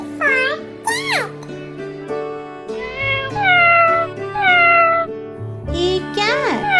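A cat meows in a children's alphabet phonics nursery-rhyme song, with rising and falling meows at the start and again near the end, set over the steady backing music.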